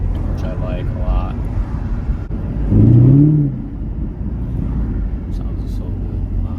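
A 2017 Chevy Camaro 1SS engine and exhaust roar through a quick paddle-shift gear change, with a brief louder surge and pop in the middle over steady road noise and a voice talking.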